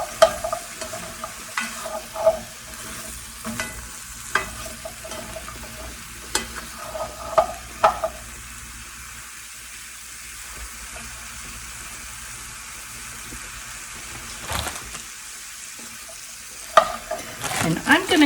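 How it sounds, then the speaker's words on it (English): Beef and bacon for a keto stew brown in a pot before vegetables are sautéed in it, giving a soft sizzle broken by repeated scraping stirs and clinks from a utensil, with quieter stretches between. "I like to brown my meat, but then I like to saute the vegetables in there"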